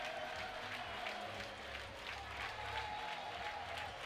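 Crowd at a youth Baseball5 World Cup game at Parque La Loma, cheering and clapping in a continuous, moderately distant roar with rising chants and no clear speech.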